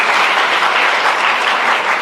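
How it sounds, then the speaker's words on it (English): Loud, steady applause from an audience at a college inauguration in Kerala, India, a dense wash of clapping filling the whole stretch without letup. "Can I get a round of applause from the girls at least?"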